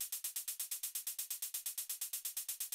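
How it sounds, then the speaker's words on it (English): Techno hi-hat ticking in a steady, even stream of sixteenth notes, bright and crisp, each hit short and identical, played alone at a moderate, close level. "we have this hi-hat, which sounds like this."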